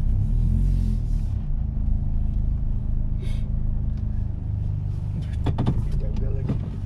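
Cars moving in and out of a residential complex entrance, a steady low engine rumble close by with passing vehicles, brief door or window sounds near the end, and people talking over it.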